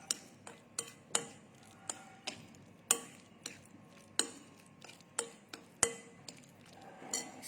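A spoon stirring stuffing mixture in a bowl, with a series of sharp, irregular clinks and taps against the bowl, close and fairly quiet.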